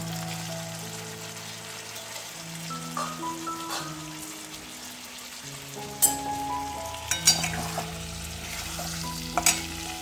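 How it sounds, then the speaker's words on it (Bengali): Green peas go into chilli paste, turmeric and spices frying with a splash of water in a wok, giving a steady close sizzle with stirring scrapes and a few sharp clinks, over soft tonal background sound. "ওই সময় কড়াইশুটি দিয়ে দিলাম"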